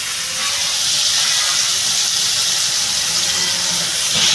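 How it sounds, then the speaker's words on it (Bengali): Mushrooms fry with cauliflower in a pan, giving a loud, steady steamy hiss that holds evenly throughout with no speech. "মশরুমটা বন্ধুরা ভালো করে ভাজা হবে"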